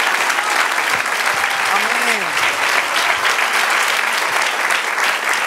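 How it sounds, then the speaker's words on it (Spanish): A church congregation applauds in steady, dense clapping that holds evenly throughout, loud and close, with a voice calling out briefly over it. "Dale un aplauso al Señor."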